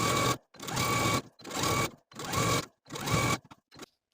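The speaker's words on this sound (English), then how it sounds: "take it to my sewing machine and sew all around the bottom hem" A sewing machine stitching around a blouse's bottom hem runs in five bursts of steady whirring, each about half a second to a second long, separated by brief pauses, close and fairly loud.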